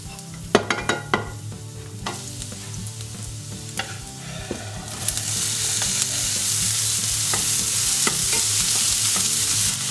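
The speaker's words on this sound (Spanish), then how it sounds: "En un poco de aceite ponemos el ajo y la cebolla a pochar." Garlic and onion fry in a little oil and are stirred in a pan, with sharp clatters of the utensil early on, then a rising, steady sizzle that fills the rest, close up and without voices.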